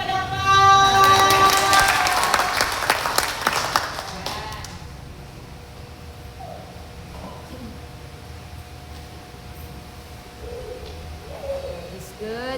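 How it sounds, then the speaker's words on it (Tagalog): Applause at a Catholic Mariology renewal seminar, a burst of crowd clapping that swells loudly at first then fades out within a few seconds, leaving quiet room tone with occasional faint voices. "Maraming palakpak."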